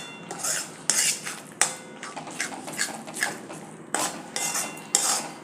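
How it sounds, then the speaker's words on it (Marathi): A spoon scrapes and clanks against a pan as masala for aloo matar paneer is stirred and sautéed, with repeated metallic knocks and scraping in an irregular rhythm, close and clear with no talk. "असं व्यवस्थित मिक्स करूया. व्यवस्थित परतून घ्यायचं."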